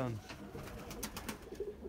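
Pigeons in a pigeon loft coo softly and repeatedly at close range, a low murmuring call beneath faint background movement.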